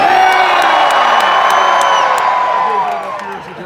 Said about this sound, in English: I'm gonna scream at y'all really loud and I want you to scream back at me.